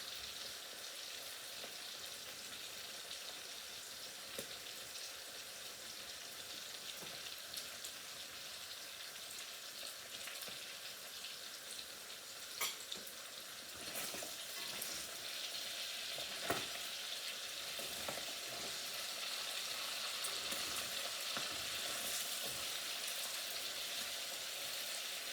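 Fish sizzling and crackling steadily in hot oil with garlic in the pan, a dense continuous fry with scattered sharper pops and spits, close and even throughout with no talk.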